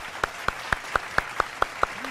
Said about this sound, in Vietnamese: Và chúng ta cùng quay về một tràng vỗ tay để chúc mừng cho Thiên Ngọc.